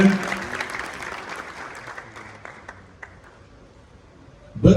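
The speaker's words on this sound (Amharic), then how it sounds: "ምስጋናው በጭብጨባ እንዲገለጽ እንጠይቃለን" Audience applause at a film premiere celebration, a dense clapping wash that gradually thins and fades, then surges back loudly in a sudden burst at the very end.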